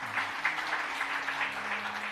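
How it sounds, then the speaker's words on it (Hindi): Audience members at a live Shiva katha gathering clap together in a steady, even wash of applause that holds at moderate loudness from start to finish. "तब जैसे आप लोगों ने ताली बजाई वैसे साईं और काजल वैद्य ओझा दोनों ताली बजाने"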